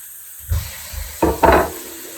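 Pork medallions sizzling in an electric skillet as they brown, with a faint steady hiss broken by a few short, louder bursts of spitting fat as the meat is shifted.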